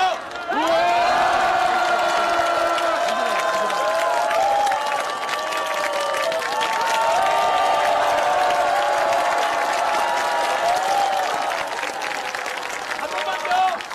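A large crowd at a Seoul election rally bursts into loud, sustained clapping mixed with cheers and whoops, a dense roar that swells immediately and continues unbroken for many seconds.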